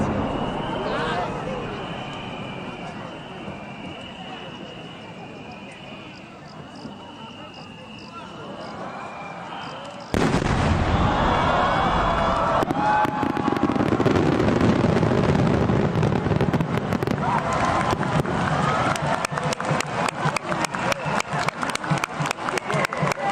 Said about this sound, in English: I found this video of the world's most expensive firework